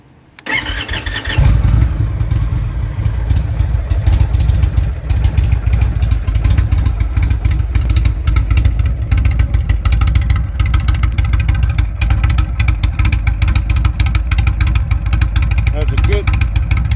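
A beginner's motorcycle engine cranks and catches after a brief quiet moment, then settles into a loud, steady, throaty idle close by that carries on to the end.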